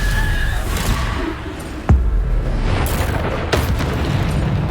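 A Bombarda explosion spell cast in the video game Hogwarts Legacy, heard as a sharp booming blast over a loud, dense game soundscape of rumbling effects and combat noise.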